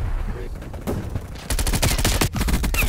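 Light machine gun fire in Call of Duty Black Ops Cold War, rapid sustained bursts of close, loud automatic shots that thicken in the second half, with a player's voice briefly audible.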